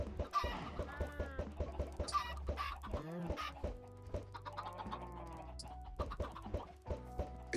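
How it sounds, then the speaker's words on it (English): Several Minecraft chickens cluck repeatedly and loudly up close, in short choppy bursts that overlap one another, with no talking. "Good God, those chickens are loud."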